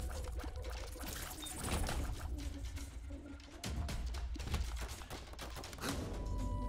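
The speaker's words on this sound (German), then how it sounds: "Die schießen einfach rundherum" Dense, continuous enemy shooting surrounds the player in The Binding of Isaac, a busy wash of rapid projectile sounds with game effects and no talking.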